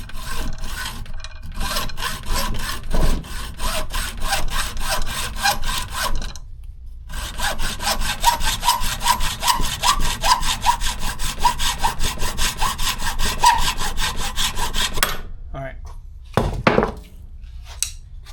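A hacksaw cuts back and forth through a discarded aluminum oil cooler line clamped in a vise on a Chevy OBS Silverado job, with rapid steady rasping strokes close by, one brief pause midway, then a few knocks at the end.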